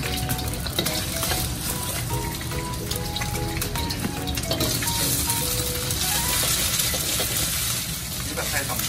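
Pad thai stir-fried in a pan at a Thai street food stall, loud continuous sizzling with scraping and clattering of the utensil, and voices talking over it.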